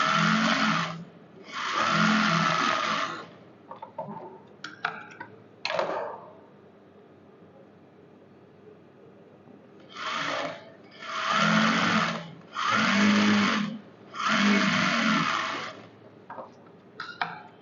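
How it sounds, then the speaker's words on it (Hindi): Sewing machine running a boot stitch on a white salwar with white thread, in repeated loud whirring bursts of a second or two separated by quiet pauses and handling clicks. "फिर हम यहाँ पे बूट का स्टिच चालू करेंगे।"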